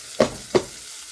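Two quick scraping strokes of a spoon through boiled pinto and black beans in a pan, close and fairly soft, against a faint background hush.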